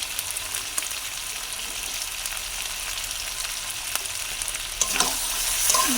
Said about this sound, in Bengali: দিয়ে ভালো করে কষে নেব। যতক্ষণ না মাংস থেকে তেল ছেড়ে দেয়।